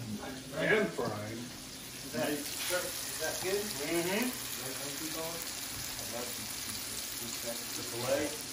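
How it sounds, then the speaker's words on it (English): Grenadier fish fillet sizzles while pan frying, a steady crackle running throughout with clinks and scrapes of cooking, while people talk over it intermittently. "Pan frying."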